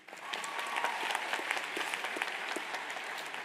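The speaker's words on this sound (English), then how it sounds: "give yourselves a round of applause" Dense, steady applause fills the room from a graduation audience at Bard High School Early College Baltimore, many hands clapping at once with a few sharper claps standing out, holding at an even level throughout.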